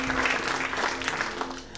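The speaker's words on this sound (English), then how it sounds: "Give yourselves a round of applause." Applause from a theater audience at a live public-policy comedy show, a steady wash of clapping lasting a couple of seconds with no voices over it.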